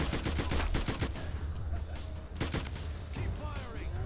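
Rapid bursts of gunfire in the video game Spy Hunter: Nowhere to Run, with repeated sharp shots clustered at the start and again near the middle, loud and close, with faint game sounds between volleys.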